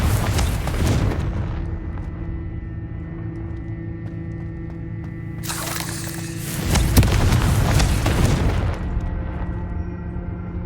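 Confringo blasting spell explosions in a Harry Potter video game: two heavy booming blasts, one at the start and another midway, each with a rushing burst that trails off into a low hum.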